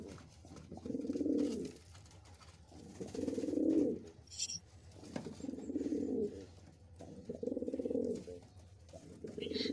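Racing pigeons coo in a loft, repeated low throaty bursts at a steady rhythm, roughly one every two seconds, fairly close and clear with light background noise and no talking.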